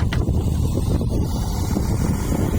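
A JCB 8035ZTS mini excavator clears soil on farmland, its engine a steady, close, low rumble that runs throughout, mixed with heavy wind buffeting on the microphone.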